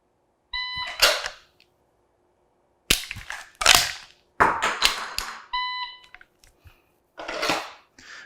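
A pistol dry-fire drill: draw, a click for the shot, an emergency magazine reload, and a second click, heard as several sharp, close clicks and clatters separated by silences.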